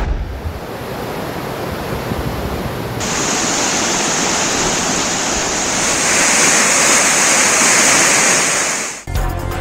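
Rushing flood water roars continuously in a dense, steady wash near a damaged power station in the Naltar area of Gilgit, swelling louder before cutting off abruptly near the end.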